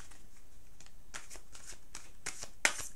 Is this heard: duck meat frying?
no